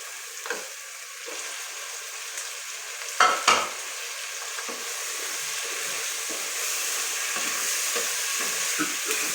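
Potatoes and okra fry in a pan with tomato, a steady close sizzle and hiss with a couple of louder clatters of stirring early on.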